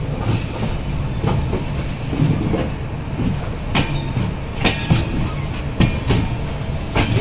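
A steady, loud rumble from inside the Kandari Express running from Howrah to Digha, with rhythmic wheel clacks and faint high squeals from the rails over a continuous low roar.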